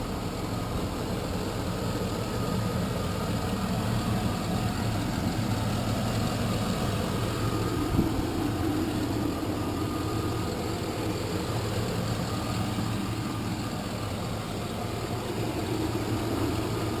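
A truck engine idles with an exhaust leak, giving a steady, even low rumble that runs unchanged and uninterrupted for the whole stretch, heard close with no voices.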